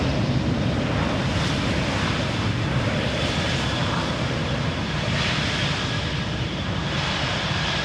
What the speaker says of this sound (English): Lufthansa and the Starlines livery, arriving from Munich